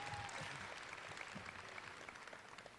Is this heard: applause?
yes